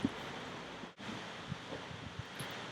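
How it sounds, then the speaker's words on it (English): Strong wind blowing outdoors, a faint continuous rush of buffeting noise against the microphone with a few small gusts and a brief dropout near the one-second mark. "It is so windy that my tarp is like falling down."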